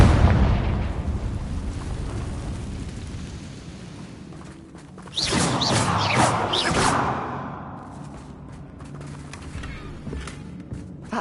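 A Confringo fire spell bursts in Hogwarts Legacy, a sudden loud blast with whooshing, crackling debris that swells after a rumbling lull and then fades into quieter ambience.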